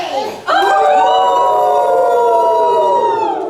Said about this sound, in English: Werewolves howling fearfully.